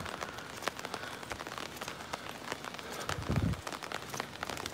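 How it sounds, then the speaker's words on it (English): Rain falls near Itabashi Station in Tokyo, a steady pattering with crisp drops hitting nearby surfaces and a brief low rumble partway through. "but it's still raining."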